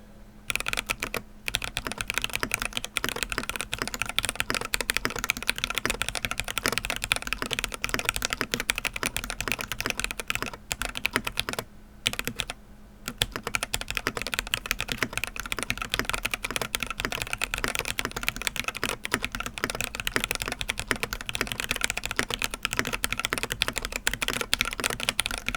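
Rapid, continuous typing on an iQUNIX x Le Petit Prince F97 mechanical keyboard, a pre-production sample, with dense clacking keystrokes close up that pause briefly a couple of times.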